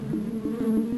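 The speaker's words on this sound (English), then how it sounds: "And bees!" A swarm of bees buzzes in the video game Lands of Lore, a steady droning hum with a low pulsing tone, close and continuous for a brief moment.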